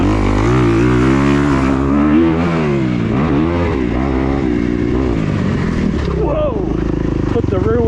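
A 2021 Kawasaki KX250X dirt bike ridden around a home motocross track, its engine revving and shifting pitch continuously and loudly throughout, with rising and falling tones as the rider works the throttle.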